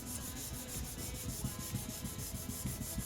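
Sandpaper rubbed by hand over car paint on a panel, a steady rhythmic back-and-forth scratching of quick even strokes, close and continuous with no voices.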